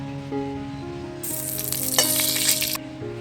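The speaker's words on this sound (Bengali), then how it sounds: "অনেকটাই তেল দিয়েছিলাম মাছ ভাজার সময়," Fresh oil is added to a pan still hot from frying fish, and a close hiss rises sharply partway through, swells with crackling, then drops back to a quieter sizzle under soft background music.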